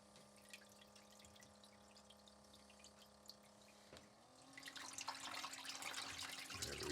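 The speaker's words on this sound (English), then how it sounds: "Get some water flowing." Water flowing down a gold-prospecting sluice, beginning as a faint trickle beside a steady pump hum, then swelling about halfway into a louder, continuous splashing rush.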